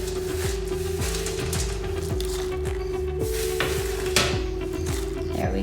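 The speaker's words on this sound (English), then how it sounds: "And then all of the almonds that we caramelized, I'm putting that in." Caramelized almonds tipped into a pan and stirred for almond rochers, giving a steady low sizzle with repeated scraping stir strokes and a few light clinks, close and continuous with no talk.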